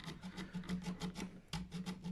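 A file rasping back and forth in the nut slot of an Epiphone Les Paul Standard guitar, a quick, even series of close scraping strokes with a brief pause midway.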